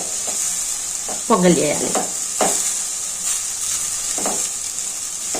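Ginger sizzles and fries in hot ghee in a pan for pongal, a steady crackling hiss with stirring scrapes and brief clatters, while a voice speaks briefly.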